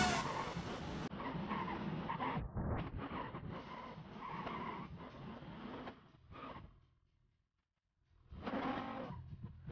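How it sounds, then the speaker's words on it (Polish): Unmuffled car engine in a racing video game, driven hard and jumping, with a loud continuous revving roar, skidding bursts, a brief near-silent gap, then the engine returns strongly near the end. "jak słyszycie, to bez tłumika to auto robi, myślę, dość ciekawy dźwięk"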